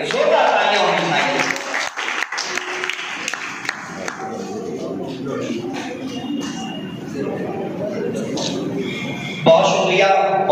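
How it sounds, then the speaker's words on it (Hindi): An audience at an award ceremony for topper students claps steadily, a dense crowd of hands sustained for several seconds, swelling briefly near the end, with voices mixed in. "जोरदार तालियां होनी चाहिए।"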